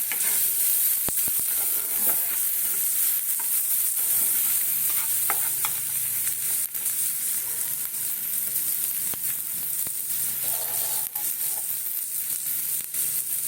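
Onion frying in butter in a pot for a vegetable soup, a bright, continuous hissing sizzle that holds steady throughout, close and loud, with faint occasional ticks and no talking.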